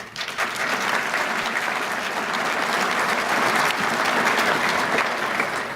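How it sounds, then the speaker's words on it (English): Members at the annual meeting of the Bay Area Chamber of Commerce give a warm, continuous round of applause, rising quickly and holding loud and even from a roomful of people. "Let's give ourselves a round of applause."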